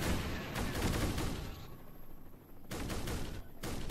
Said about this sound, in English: So he's hitting it with the, I believe it's called the cannon